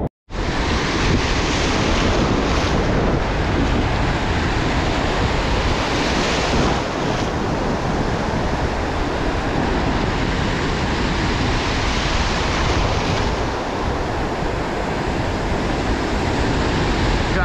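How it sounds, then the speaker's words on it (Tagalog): Strong ocean waves at sea during a fishing trip roar without a break, mixed with heavy wind buffeting the microphone. "Grabing lakas mga master ng alon."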